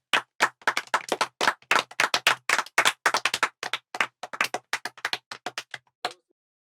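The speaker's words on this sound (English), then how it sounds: "Claps for them" A small group in a classroom claps for two students, a sparse cluster of close, sharp handclaps with uneven rhythm that thins out and stops after about six seconds.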